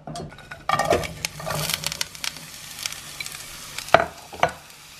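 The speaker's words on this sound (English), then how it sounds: "now that my oil is hot, I'm gonna go ahead and throw in my chiles now" Chiles hitting hot oil over medium heat give a steady close sizzle and crackle, with a few sharp clinks and stirring scrapes from the pan partway through.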